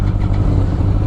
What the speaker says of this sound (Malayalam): R1ൻ്റെ സൗണ്ട് ഒന്ന് കേട്ടോ കേട്ടോ